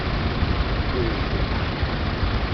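An International tractor in original condition runs steadily, a low, even engine drone with a constant rumble and no breaks, close and fairly loud.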